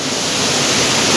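Steady broadband rush of a river flowing outdoors, loud and continuous with no pauses, a full wash of water noise from close by.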